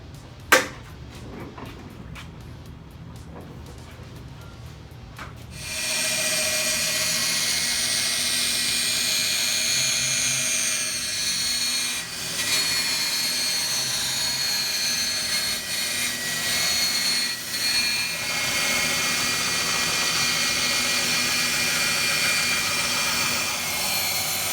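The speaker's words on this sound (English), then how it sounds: "Now it's time to set the bandsaw up and cut this out." A bandsaw cuts out a wooden electric guitar fretboard, with a steady loud whine that starts after a few quieter seconds of handling and runs on without a break.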